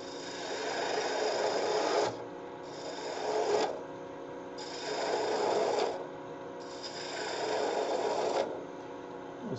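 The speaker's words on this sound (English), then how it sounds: "We'll speed the lathe up a little bit. This is a pretty small turning." A small wood turning for a miniature bird ornament spins on a lathe while a tool cuts it in repeated passes, making a close, raspy scraping that swells and fades in regular bursts over a steady machine hum, with nobody talking.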